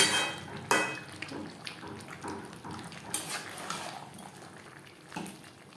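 A spatula scrapes and clinks in a pan as fried potatoes and chicken are stirred together for alu chicken over high to medium flame. Irregular scraping and metallic taps sound over a soft sizzle.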